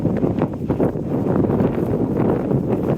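Gusty wind buffeting the microphone aboard a small passenger ferry crossing to Shaldon, a continuous rough rumble with fluctuating intensity and no voices.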